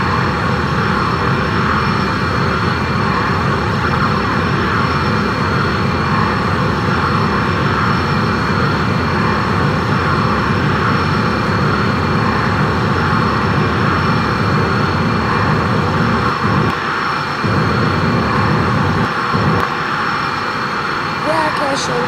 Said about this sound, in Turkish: Ve uçağı kaldırıyorum.